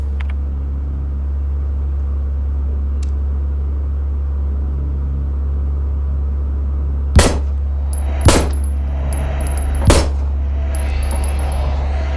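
Three sharp pistol shots ring out in the survival horror game Signalis, spaced irregularly over a steady low droning hum, each shot loud and close with a short metallic tail.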